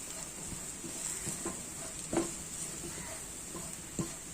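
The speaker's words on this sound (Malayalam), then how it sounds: "പച്ചമണം മാറുന്ന വരെ ജസ്റ്റ് ഒന്ന് ഇങ്ങനെ ഇളക്കിയെടുക്കാം" Quiet scraping and light tapping of a utensil stirring a jackfruit seed masala in a pan, with a faint steady sizzle underneath.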